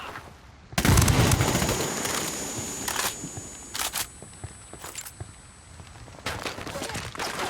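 A frag grenade detonates in the Ghost Recon Wildlands shooter, a loud broadband blast followed by several more sharp bursts and crackling gunfire-like reports scattered through the scene.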